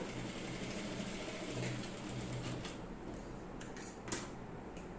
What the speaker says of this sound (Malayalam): അപ്പോൾ ഇതുപോലെ വളച്ച് വളച്ച് സ്റ്റിച്ച് ചെയ്യാം